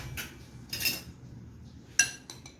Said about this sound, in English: now I'm going to mix all this together